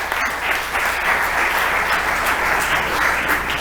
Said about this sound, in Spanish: Denle un aplauso